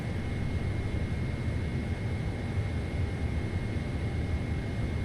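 Steady broadband jet engine roar from a PMDG 777-F freighter in Microsoft Flight Simulator 2024, continuous and even with a faint tonal whine riding on top, no talk heard.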